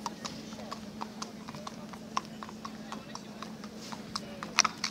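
Horses' hooves clip-clop in a steady, regular rhythm of sharp knocks, moderately close, over a constant low hum and faint background murmur.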